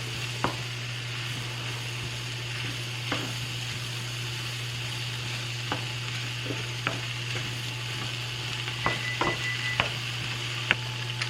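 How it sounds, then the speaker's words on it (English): Flour cooking with chopped vegetables in a pan, a quiet soft sizzle with a low steady hum beneath and scattered sharp clicks and scrapes from stirring with a utensil, close-up and without talk. "I just want to cook that in here with these veggies for a little bit"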